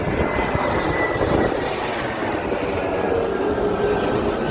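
A jet airliner on approach to San Diego roars steadily overhead, a loud, broad engine rumble with a faint whine that holds through the whole moment.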